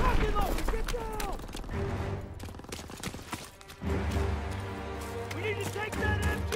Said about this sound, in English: Gunfire! We must be near our guys.